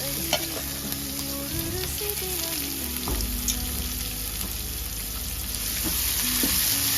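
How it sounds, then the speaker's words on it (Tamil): Chopped onions sautéing in a pan, a steady close sizzle with occasional scraping stirs, continuous and fairly loud with no talking. "போட்டு நல்லா வதக்கணும்."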